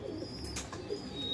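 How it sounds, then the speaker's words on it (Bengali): A Giribaz pigeon, an old home-bred flying breed, gives a short soft coo close by, low and muffled against quiet room noise. "দুর্ধর্ষ পায়রা।"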